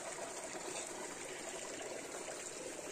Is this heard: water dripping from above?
yes